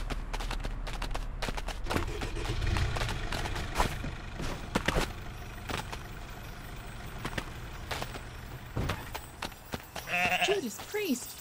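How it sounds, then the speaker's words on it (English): Goats in the video game Goat Simulator 3 bleat several times amid game noise, thuds and voices, with a clearer bleat near the end. "Another goat."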